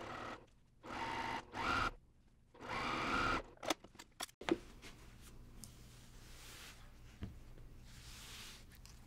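A sewing machine stitches a seam on a cross-stitch pillow in a few short whirring bursts, followed by clicks, handling noise and a quiet room.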